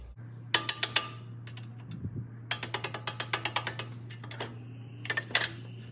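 Bolts are ratcheted out during a clutch replacement on a 2004 Hyundai Accent, giving several quick bursts of sharp ratchet clicks separated by pauses, close up, over a steady low hum, with no voices.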